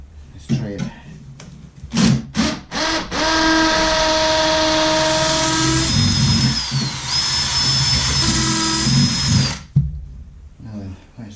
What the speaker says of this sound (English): I'll do one hammer drill.